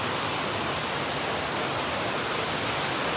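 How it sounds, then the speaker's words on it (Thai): A waterfall in Indonesia roaring as a dense, constant rush of falling water, loud and even with no pauses, heard alone without voices. "นี่น้ำตก"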